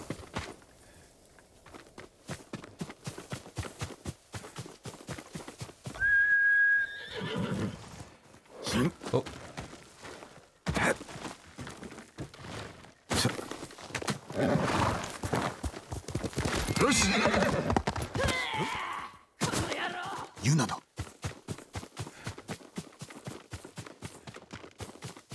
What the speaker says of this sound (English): I don't know if that horse can jump that